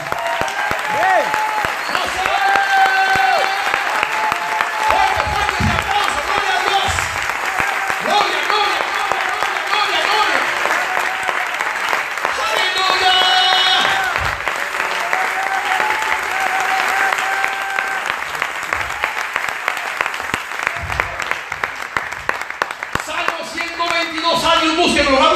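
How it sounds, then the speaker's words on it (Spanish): A church congregation applauds at length during a Spanish-language sermon, a long wall of many hands clapping with cheers and shouted voices rising and falling over it, continuing steadily to the end. "con un aplauso indíqueme cuántos aman a Israel en esta mañana"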